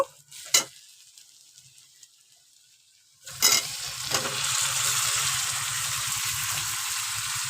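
Boiled potatoes dropped into spiced masala in hot oil, two sharp knocks over quiet, then a loud sustained sizzle with steady stirring taking over, close and alone.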